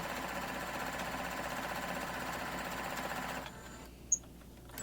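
A sewing machine runs steadily while stitching the seam of a throw pillow, a continuous even whir that stops abruptly near the end, followed by quiet and a single short click.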